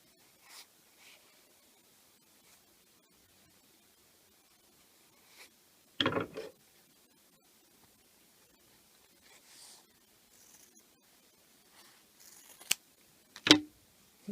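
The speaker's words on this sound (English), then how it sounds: "then, I'm going to cut that in half." Scissors cut through upcycled pet food bag material, giving a few quiet, sharp snips separated by long near-silent gaps.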